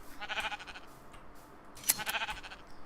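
Minecraft sheep bleat in two short, wavering calls about a second apart, fairly faint, with a soft click between them.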